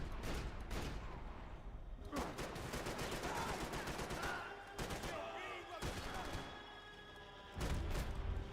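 Shotgun blasts and other gunfire in the video game Max Payne 3 pound out repeatedly in rapid bursts, loud and dense, mixed with game effects throughout.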